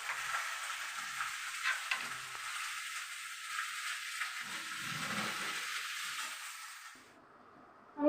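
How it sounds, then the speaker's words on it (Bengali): Leftover dal reheating in a pan gives a steady, close sizzle and hiss with faint stirring bumps. The sizzle fades out near the end, leaving a brief near-quiet. "এখানে কালকে একটু ডাল ছিল, সে ডালটা গরম করছি"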